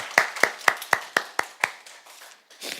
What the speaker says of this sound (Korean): 우리 이 귀한 어머니를 주신 하나님과 그 귀한 어머니들에게 우리의 마음을 담아서 큰 박수로 우리 감사를 전하도록 하겠습니다